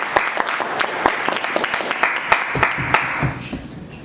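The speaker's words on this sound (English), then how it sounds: "I would like another round of applause." A smaller debate audience claps, the individual hand claps sharp and distinct at first, then the applause gradually thins out and fades.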